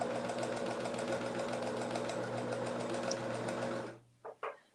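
A sewing machine stitches fabric in a steady, rapid mechanical hum close by for about four seconds, then stops, followed by two brief clunks.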